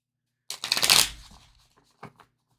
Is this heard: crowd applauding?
no